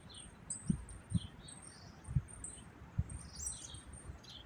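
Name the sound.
birds singing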